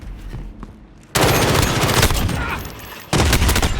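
Gunfire in a video game shootout, dense rapid bursts of shots that are loud and close, with a brief lull before a final burst; faint voices are present underneath.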